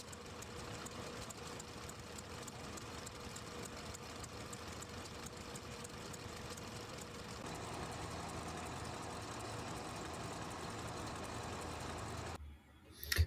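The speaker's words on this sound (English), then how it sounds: "Miniature steam traction engines are a big thing in the UK." A miniature steam traction engine runs steadily at an outdoor setting, a continuous low mechanical chugging and hum that shifts slightly in tone partway through before cutting off abruptly near the end.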